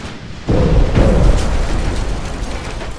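Torpedo hits exploding against a Royal Navy G3 battlecruiser in Ultimate Admiral: Dreadnoughts, a sudden loud, deep boom that rumbles on and slowly fades, with no talk over it.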